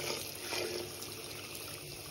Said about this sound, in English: I'll just keep running the water on it.